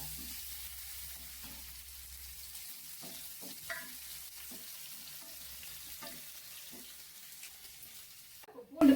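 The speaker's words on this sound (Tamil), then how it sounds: "பூண்டு பொரிஞ்சிச்சுப்பா" Crushed garlic frying in hot oil in a pan while cooking a brinjal and drumstick curry, a steady low sizzle with faint stirring scrapes, then a louder clatter at the end.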